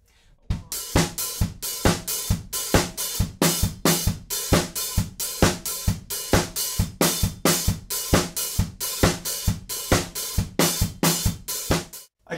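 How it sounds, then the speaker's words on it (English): Drum kit playing a steady four-on-the-floor groove from a song, kick on every beat under crisp offbeat hi-hats, repeating evenly and loudly throughout with no talking. "We've got 4 on the floor, offbeat hi-hats,"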